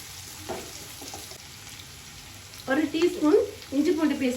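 Small and large onions sautéing in a pan for Madurai country chicken gravy, a soft sizzle that swells into louder bursts of frying and stirring toward the end, close by.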